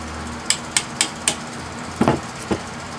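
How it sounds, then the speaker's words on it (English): An AC adapter being scrapped, its inner part tapped out through the bottom: four sharp, evenly spaced knocks, then a heavier double clatter and one last knock, close and distinct over a faint low hum, with no talking. "Sometimes you can tap it through the bottom, like this one."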